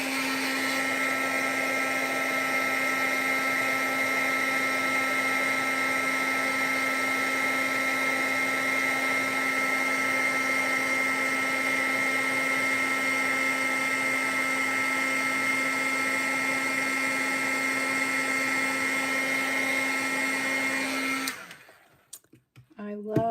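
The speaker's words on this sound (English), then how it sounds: "I love heat embossing." A heat gun blows steadily while heat embossing a handmade card, a close, even whirring hum lasting about twenty seconds before it switches off abruptly.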